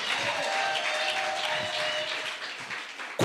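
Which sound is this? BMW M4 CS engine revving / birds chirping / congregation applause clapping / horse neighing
congregation applause clapping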